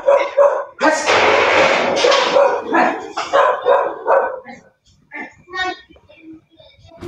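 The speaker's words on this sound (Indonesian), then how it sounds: "Ini bom-bom nakal tengah malam masih menggonggong dia." A naughty pet dog barks at midnight indoors, a burst of loud, close barks broken up by talking voices, followed by quieter scattered sounds.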